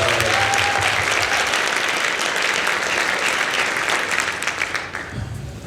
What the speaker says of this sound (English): Let's give also a round of applause